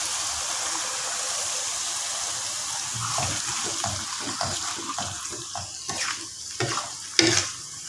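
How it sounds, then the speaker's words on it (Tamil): Tamarind water poured into a frying pan while cooking anchovies for nasi lemak: a steady wash of liquid with splashing and stirring clatter, growing busier and louder toward the end, close by with no talk. "புளி தண்ணி ஊற்றிக்கும்."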